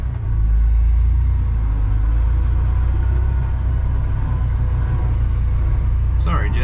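A 1993 Ford F150 4x4 truck with a seized-up engine idles close by in a steady, loud low rumble that holds even throughout, with a brief higher rattle near the end.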